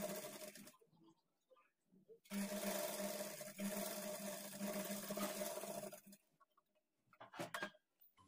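A domestic sewing machine runs in a steady whir for a few seconds, stitching a blouse armhole dart with a quarter-inch margin, quiet pauses before and after, with faint handling sounds and no speech.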